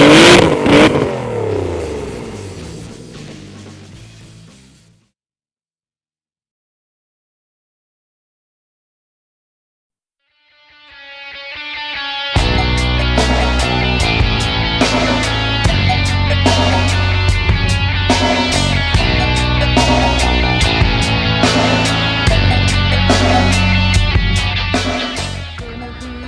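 A car's sports exhaust opens up under full throttle, a loud, racy, sustained roar that swells in after a silent gap and holds steady with rough clattering pulses throughout.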